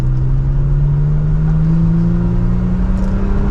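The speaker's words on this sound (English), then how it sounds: "Let's give a little bit of gas here" A Toyota Tacoma pickup truck accelerates from inside the cab, its engine note rising smoothly and steadily over a few seconds as a loud continuous drone.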